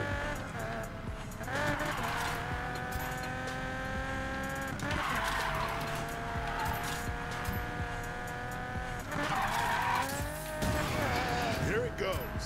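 Engine revving and tire squeal from a car drifting with handbrake taps in the racing video game Need for Speed Payback, with sustained engine tones rising and falling in three long surges over continuous game audio.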